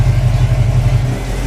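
Corvette exhaust rumbling loudly close by as the engine revs, a deep continuous throaty roar with slight rises and dips over a short stretch, no voices.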